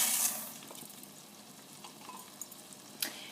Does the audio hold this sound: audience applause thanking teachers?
no